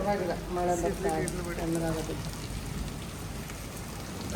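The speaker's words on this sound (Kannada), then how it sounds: "ಅಯೋಧ್ಯೆಯಲ್ಲಿ ಗುಡುಗು ಸಹಿತ ಭಾರಿ ಮಳೆ ಬರ್ತಾ ಇದೆ" Steady, dense rain from a thunderstorm in Ayodhya hisses close by, with a voice talking over it during the first half before the downpour carries on alone.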